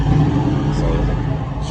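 A Chevy engine started by remote start fires up and idles with a steady, loud low rumble, a car engine running close by throughout.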